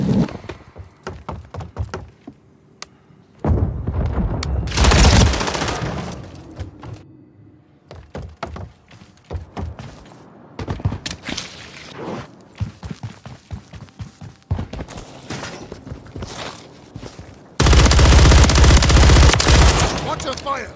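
Gunfire in a Warzone match, with bursts of automatic weapon fire and single shots, some close and very loud, others lighter, spread across the clip with pauses between volleys.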